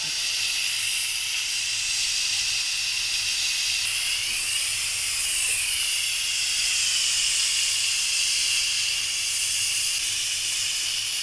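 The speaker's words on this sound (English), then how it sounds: "We want to be careful when we do the release valve because of that." Steam venting hard from an Instant Pot's pressure release valve while a low country boil cooks, a loud, steady rushing hiss that holds for the whole stretch with slight swells and no talk.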